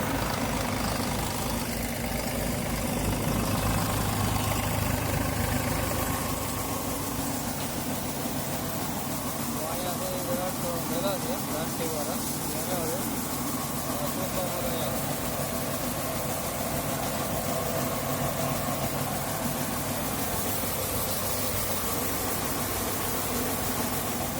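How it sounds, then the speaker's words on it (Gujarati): An Eicher tractor engine idles on a farm during mung bean threshing, a steady, loud low-pitched throb that continues evenly for the whole stretch with some mechanical rattle on top. "ટ્રેક્ટર આઈસરનું છે"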